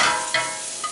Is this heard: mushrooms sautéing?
yes